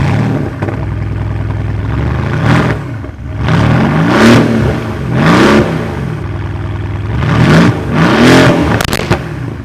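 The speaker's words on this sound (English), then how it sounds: "listen to it with the titanium exhaust" A Mercedes-AMG GT R fitted with a titanium exhaust revs loudly up close in three or four separate blips, each rising and falling back to a rumbling idle in between.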